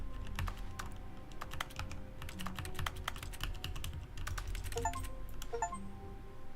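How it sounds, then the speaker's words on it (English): Rapid, quiet keyboard typing in the video game The Stanley Parable, a steady run of crisp key clicks with occasional brief tonal blips, no speech over it. "It's making keyboard sounds."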